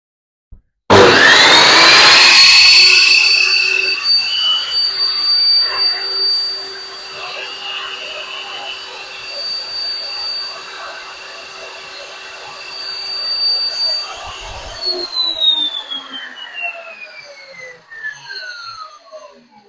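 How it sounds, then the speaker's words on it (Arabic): A Total table saw switches on with a loud rising whine, runs at a steady high-pitched drone, then spins down as it is switched off, close and dominant throughout. "ممكن نبتدي نسمع صوت المنشار دلوقتي."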